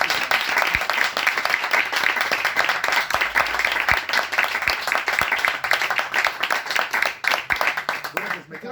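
An audience at a Spanish book presentation in Benavente gives a final round of applause, close, lively clapping with distinct individual hand claps and some voices talking beneath before it tapers off.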